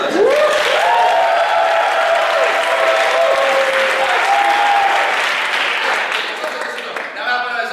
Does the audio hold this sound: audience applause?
yes